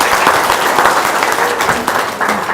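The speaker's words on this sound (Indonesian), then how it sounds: "Biar semangat, tepuk tangan dulu dong." Audience at a religious talk clapping on request, a full burst of many hands close and loud, holding steady for a couple of seconds with slight surges.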